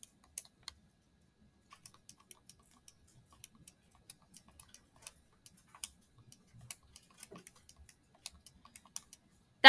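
Numbers tapped into a calculator keypad in a classroom: sparse, light plastic clicks at an uneven typing pace, faint and close, with no talk.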